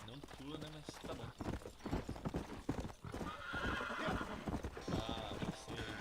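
Horse in the Red Dead Redemption video game, with loud rhythmic galloping hoofbeats and a whinny throughout, under game sounds and a person talking.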